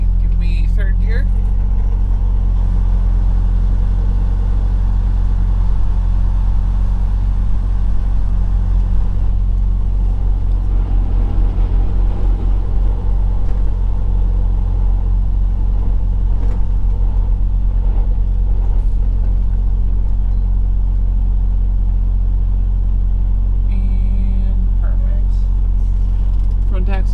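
A truck engine drones steadily in third gear, a deep continuous low rumble with a faint rise in revs partway through, heard from inside the cab with brief voices over it.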